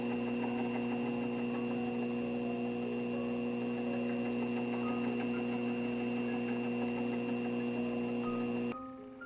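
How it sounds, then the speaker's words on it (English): A faceting machine cuts and polishes the table facet of a kite-shaped gemstone, a steady motor hum with a constant whirring drone that holds evenly throughout before stopping abruptly near the end. "I'm now cutting and polishing the table facet, which is the very last facet to do"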